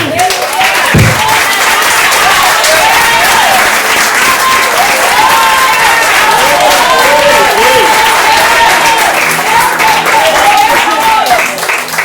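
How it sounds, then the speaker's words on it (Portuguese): A church congregation applauds during a service, loud continuous clapping filling the room while a voice speaks over it. "Aplauda, Senhor, aplauda"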